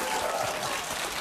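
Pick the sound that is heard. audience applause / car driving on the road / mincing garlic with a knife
audience applause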